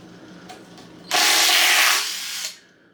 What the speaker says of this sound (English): Now we'll use the 11mm to take the lower oil pan bolts off.